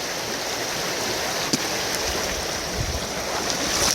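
Water and gravel run through a gold sluice in a steady close rushing wash with a faint gritty rattle, plus a couple of brief clicks along the way.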